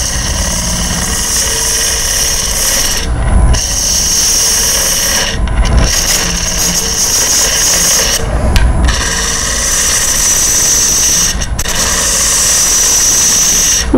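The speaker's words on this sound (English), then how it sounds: "I'll use a deep bowl gouge" Deep bowl gouge taking light cuts in cedar on a wood lathe, a steady close rasping hiss broken by short pauses roughly every few seconds as the tool lifts off and re-engages.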